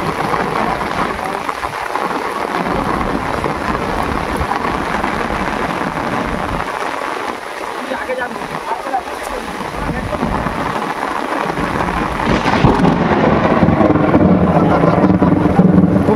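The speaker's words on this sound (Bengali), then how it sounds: "মুষলধারে বৃষ্টি হচ্ছে।" A heavy downpour drums steadily over a Sundarban river where fishermen cast nets from a boat during a thunderstorm, a dense, loud wash of rain that swells louder toward the end.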